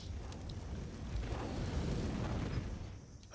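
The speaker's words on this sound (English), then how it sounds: "Big nades on the bomb site." Grenades go off on a bomb site in a Counter-Strike match, heard as a sustained muffled rumbling blast wash, fairly loud, fading out at the end.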